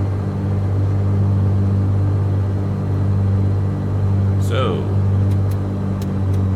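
Black Square Grand Duke twin-engine aircraft idling during a magneto check in a flight simulator, a steady, loud, deep engine drone under a voice speaking briefly.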